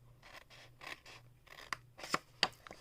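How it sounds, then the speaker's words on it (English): Scissors snip along score lines in scored paper for a gift box, a quiet series of short, rhythmic cuts with a few sharper closing snaps near the end. "I'm going to go ahead and cut each of the score lines to the first score line."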